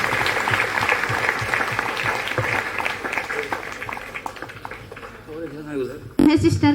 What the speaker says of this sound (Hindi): तीनों के लिए हम लोग ताली बजाते हैं और शुभकामनाएं देंगे।